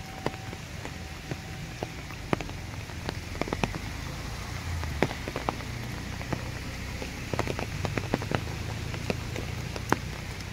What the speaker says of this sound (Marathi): जोरात पाऊस चालू आहे.